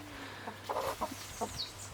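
A few soft, short clucks from chickens nearby, quiet and intermittent over a faint background hum.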